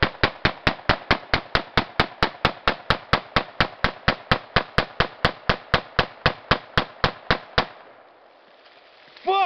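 An SKS rifle is fired into water in a rapid, evenly spaced string of about thirty loud, sharp shots, followed by a brief quiet tail.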